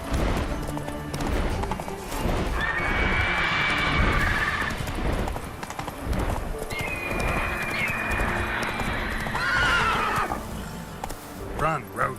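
In The Witcher 3: Wild Hunt, a horse gallops with a rapid, steady clip-clop of hooves and gives out loud neighs. A player talks and exclaims over the sound the whole time.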